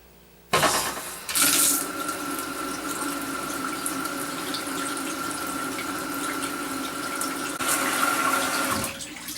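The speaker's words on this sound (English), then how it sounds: "So I turned both shutoff valves on, and now we want to let this run for a full minute or longer." Water gushes from a newly installed Delta touch faucet into a sink, turning on abruptly and running in a steady, close rush for several seconds before cutting off near the end.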